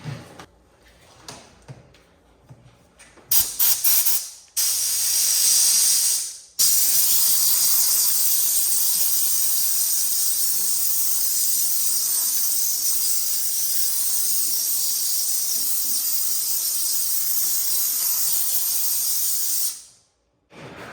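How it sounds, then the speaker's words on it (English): A loud, steady hiss of pressurized steam spraying runs for about fifteen seconds after a few clunks and clicks, then cuts off abruptly. "go to town with the steam cleaner and some microfiber rags."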